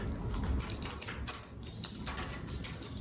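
Masking tape is wrapped around a wire join on a flower frame, giving close, rapid ticking and crackling pulls in an irregular rhythm, with no voices.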